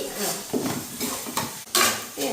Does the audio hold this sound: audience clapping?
no